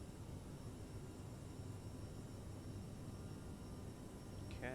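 Steady roar of CRJ900 jet engines in a flight simulator on approach to Christchurch, New Zealand, a continuous broadband drone at constant level with throttle being increased, a brief tonal chime near the end.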